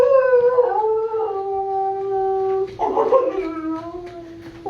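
A dog howls in a radio drama sound effect, a long, loud, wavering howl that rises and falls, with a second howl breaking in partway through.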